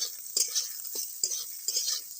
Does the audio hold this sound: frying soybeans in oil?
yes